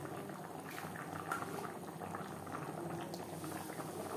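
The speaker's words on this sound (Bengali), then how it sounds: "চিকেন সেদ্ধ হওয়া পর্যন্ত অপেক্ষা করব।" Chicken boils in a pot of water for aloo chicken curry, a steady, close bubbling and gurgling with soft pops, quiet and unbroken with no talking.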